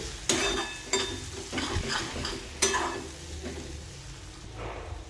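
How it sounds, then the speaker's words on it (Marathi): Onion and chili spice masala sautéing in a pan gives a soft sizzle, punctuated by several sharp scrapes and clinks of a spoon against the pan, close and moderately quiet. "हे 1 मिनिट अर्धा मिनटं परतून घ्यायचं आहे, फक्त मिरची मसाल्याचा कच्चापणा जाईपर्यंत"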